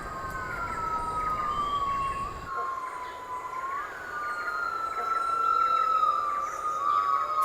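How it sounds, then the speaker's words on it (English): Yellow-cheeked gibbons call from the forest canopy, a long wavering whooping note that rises and falls over a dense hiss of forest insects and birds, heard at some distance. "Each morning, the canopy is filled with the calls of yellow-cheeked gibbons."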